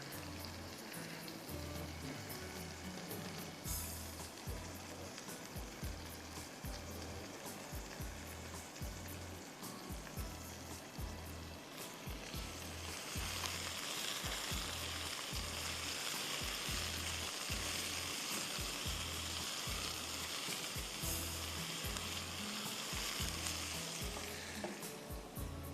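A tempering of spices sizzles steadily in a pan for a bakla (broad bean) dish, a continuous fine crackle that swells louder partway through, with occasional stirring and no talk.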